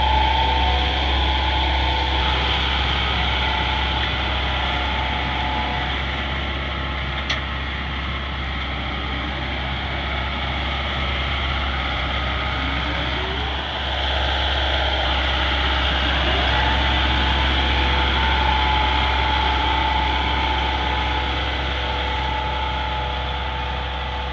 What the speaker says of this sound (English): as you can tell, it's actually a peanut lifter